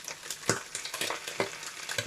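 Eggs crackle and pop while frying in a breakfast pan, a close, busy sizzle broken by sharp spatters and a few louder scraping bursts over about two seconds, with no voices.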